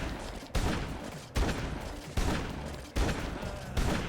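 Shotgun fire in the Dead Rising 2: Off the Record video game, five loud evenly spaced blasts about a second apart, each trailing into a long rumbling decay, no talk.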